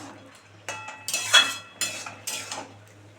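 A lid comes off a pot of bottle gourd simmered in milk, a series of close metallic clinks and scrapes with one brighter ringing clatter, over a low steady hum.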